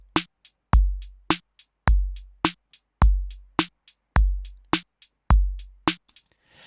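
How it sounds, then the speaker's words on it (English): A standard rock drum beat plays alone and loud: deep booming kicks alternate with sharp snare hits, and crisp eighth-note hi-hats tick steadily through the pattern before a brief ringing tail. "So for a standard rock beat, there's a kick on the 1 and the 3. We got a snare on the 2 and the 4."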